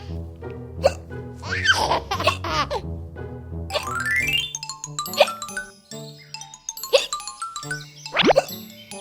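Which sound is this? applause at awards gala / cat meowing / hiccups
hiccups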